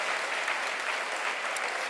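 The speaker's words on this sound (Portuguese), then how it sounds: "Se é para aplaudir a palavra do Senhor, aplauda com todo o teu coração" A church congregation breaks into steady, dense applause, many hands clapping at once in a continuous even roar with no talk over it.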